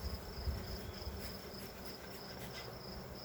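Honey bees buzz around an opened hive during an inspection a week after splitting the colony, a dense, steady drone filling the air close by, with no voices.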